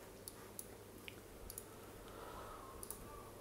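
Sharp computer mouse clicks, a handful of brief, faint ticks scattered at irregular moments over a low steady room hum, with no talking.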